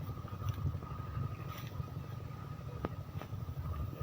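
A boat engine hums low and steady while travelling over water, a faint continuous drone with wind noise and a couple of brief clicks.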